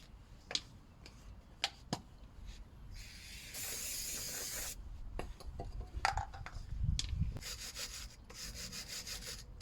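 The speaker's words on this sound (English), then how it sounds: "Let's clean this up with a bit of brake cleaner and a wire brush." Brake cleaner hisses in short sprays onto a Peugeot 308 front suspension part, a couple of bursts of close aerosol spray between clicks and rubbing handling noises.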